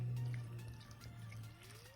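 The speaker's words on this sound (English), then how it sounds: "take our lye water and just pour it right over those oils" Lye water poured slowly over coconut oil, cocoa butter and shea butter for homemade coffee soap, a steady close liquid pour and trickle with faint dripping, no talk.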